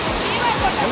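Jatashankar waterfall near Junagadh on Girnar pours with a continuous, dense rushing roar close by, and a voice may be faintly mixed in.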